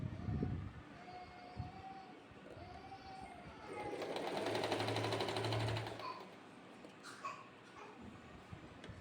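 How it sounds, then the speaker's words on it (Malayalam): A sewing machine stitches stretched elastic onto baby panties in a short, steady run of rapid stitching lasting about two seconds, with quieter handling sounds before and after. "ഇലാസ്റ്റിക് അടിക്കുന്ന സമയത്ത് ഇലാസ്റ്റിക് വലിച്ചു പിടിച്ചടിക്കണം"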